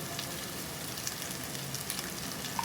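Masala fries in hot oil for boti curry, a steady close crackling sizzle with faint pops throughout.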